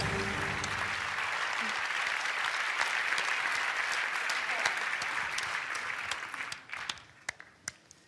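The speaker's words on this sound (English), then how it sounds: "Please don't stop applauding" Big gala audience at the Berlinale in Berlin applauds steadily for the European Shooting Stars, a dense, loud wash of clapping that thins into a few scattered claps near the end; a voice speaks briefly at the start.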